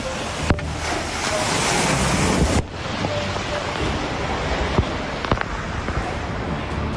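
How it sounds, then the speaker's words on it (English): Floodwater rushes down from a mountain in a loud, continuous roar of churning water and wind, with a heavier surge for the first few seconds before settling into a steady, slightly softer wash with occasional thuds. "water has come rushing down from the mountain"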